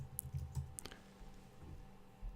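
A few soft, close clicks come from a computer keyboard, typed in short bursts, with quiet pauses between them.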